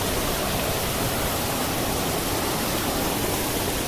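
Amanvera waterfall in the Zaqatala mountains, a dense, constant rushing roar of falling water, loud and unbroken with no voices.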